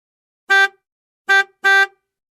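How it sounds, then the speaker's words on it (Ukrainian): Three short car horn honks, loud and close, the last two coming in quick succession after a pause. "Ви чуєте? Сигналить машина."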